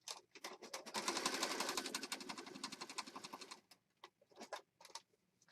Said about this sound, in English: I'm going to sew right around this area right here and come right back